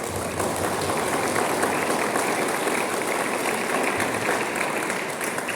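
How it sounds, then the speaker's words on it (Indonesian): An audience at a seminar gives sustained, dense applause, with many hands clapping steadily at full volume throughout. "sekali lagi kita beri aplaus"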